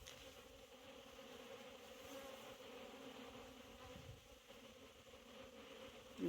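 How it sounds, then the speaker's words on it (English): Honey bees hum in a thick, constant drone at an open hive during a colony split, many wings buzzing together close at hand. "we got a lot of bees up here."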